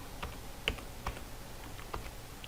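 Sparse, quiet keystrokes on a computer keyboard while a formula is typed into a spreadsheet, a handful of distinct clicks spread irregularly across a few seconds with no talking.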